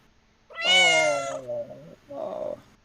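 A house cat gives a long, loud, close meow followed by a shorter second meow after a brief pause, with no talking.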